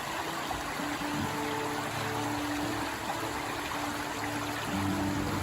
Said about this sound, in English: Sometimes it's just nice to sit and listen to the water.